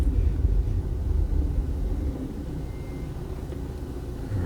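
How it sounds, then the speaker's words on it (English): A 1995 Mercedes-Benz S 320 long-wheelbase W140 accelerating and then braking: a loud, close low engine rumble that swells, then eases to a steadier, quieter drone. "Accelerates well and brakes well, as you can see."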